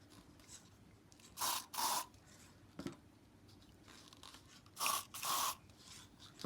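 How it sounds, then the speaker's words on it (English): Griffin silicone sprays from an aerosol can onto acrylic paint in two pairs of short hissing bursts, close and crisp, separated by quiet pauses and a small tap. "Now, putting in the silicone, the Griffin silicone."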